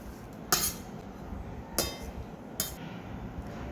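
A spoon clinks against a bowl three times while peanut salad with coriander is mixed, sharp metallic taps spaced about a second apart over quiet room noise.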